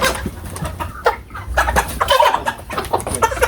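A rooster on a Ugandan broiler chicken farm clucks repeatedly up close, with short irregular bursts and squawks over a low farmyard background.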